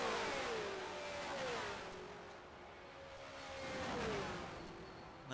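A race car engine in an Indianapolis 500 racing game rises and falls in pitch as cars pass, a faint rolling whine with two swelling passes heard at a distance and no talking.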